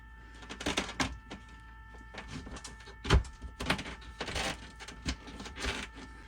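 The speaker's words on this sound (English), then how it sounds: "then we're going to shove the box in" An electrical junction box shoved into existing drywall, heard as a series of scraping thunks and knocks, one sharp thud standing out near the middle, with faint background hum.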